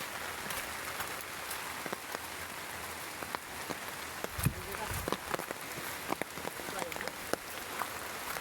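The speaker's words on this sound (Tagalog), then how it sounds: "Umuulan na, mga kaibigan. Nabot na tayo ng ulan." Rain pattering steadily on surfaces outdoors along a rural path, a soft continuous hiss with scattered individual drops and occasional louder taps, fairly quiet overall.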